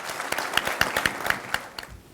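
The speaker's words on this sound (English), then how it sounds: "Let's give him a round of applause." Applause from a dinner audience at a United Way event, a thin scatter of individual claps with sharp transient spikes, moderately quiet and somewhat sparse, with no speech over it.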